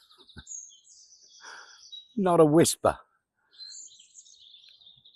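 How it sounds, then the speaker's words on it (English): Birds in leafy dappled shade on a hot, still Saturday morning, with scattered chirps and high tweets, one loud call in the middle, and someone speaking quietly at the start. "what are kicking off are them birds"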